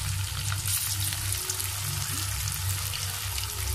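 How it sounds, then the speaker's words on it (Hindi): Rice and cheese pakoras deep-frying in hot oil give a steady, dense crackling sizzle that holds at an even loudness throughout, with no voices. "इसको अपने गरम ऑयल में डाल के पकोड़े बना लेंगे इसके"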